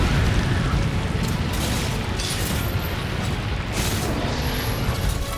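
A large monster slams into a wall in the video game Monster Hunter World, producing a dense, rumbling impact roar with booming low crashes that stay loud throughout, mixed with game effects.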